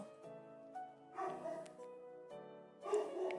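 A dog gives a series of short yips and bow-wow barks mixed with whiny, whimpering tones, close by and fairly quiet, in uneven bursts over a few seconds, with no talking.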